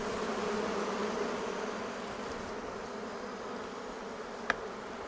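Honey bees buzz inside a beehive in spring: a dense, continuous, even drone of many bees, close and steady, with one brief click near the end.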